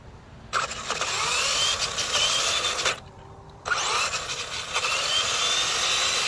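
A Traxxas E-Maxx RC truck's electric motor revving at full throttle with the wheels off the ground, a loud high whine that drops out briefly near the middle, then surges again.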